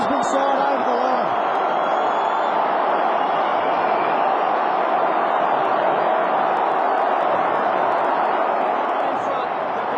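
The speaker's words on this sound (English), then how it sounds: "The crowd are just getting behind this game so much, trying to will the Brisbane side over the line." A dense, roaring stadium crowd at a 2003 AFL football match between Port Adelaide and Brisbane cheers steadily and loudly throughout, a continuous wash of massed voices with no break in intensity.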